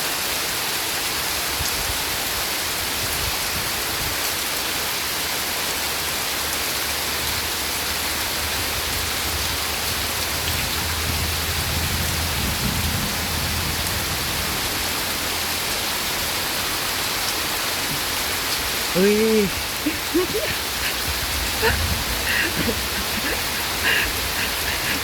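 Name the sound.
rain with thunder and wind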